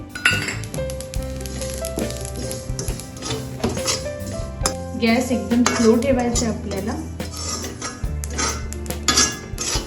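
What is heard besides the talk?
roasting garden cress seeds with poppy seeds in a pan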